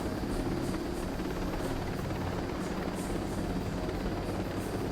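Steady, loud rotor and turbine drone of a helicopter in the video game Ghost Recon Breakpoint, continuous and unbroken throughout with no talk over it.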